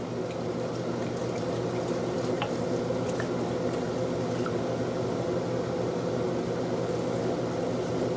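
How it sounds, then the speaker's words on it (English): White wine pours over beer and butter in a pan, a steady close sizzling and liquid splash with scattered drips running evenly, no voices heard. "I'm going to pour that white wine on top of our beer and our butter."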